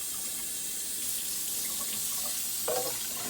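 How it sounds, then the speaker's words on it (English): Cold water runs steadily from a kitchen tap into a pan while making meatballs and gravy, a continuous close hiss and splash throughout with a slight change near the end. "we're going to add cold water, get all the rest of it out"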